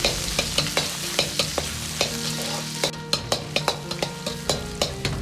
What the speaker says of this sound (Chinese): 接着下入肉丝，先炒出香味